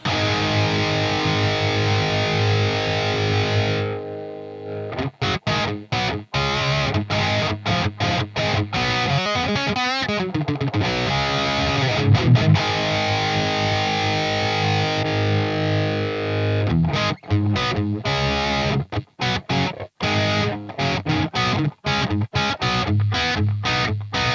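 Heavily distorted electric guitar through a Neural DSP Fortin Nameless Suite X high-gain amp plugin, with a thick, saturated tone playing chords and riffs continuously, with brief choppy pauses between stabs.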